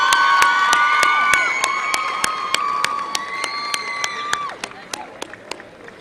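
Sharp rhythmic claps in unison from a crowd at a youth netball tournament, with high shouts and cheers layered over them, then the shouting fades and the claps thin to scattered beats.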